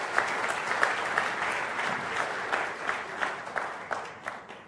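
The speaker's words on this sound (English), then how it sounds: "I think that warrants a round of applause," An audience claps steadily for several seconds at an interview with the Chief Justice of India, a dense round of applause that gradually thins toward the end.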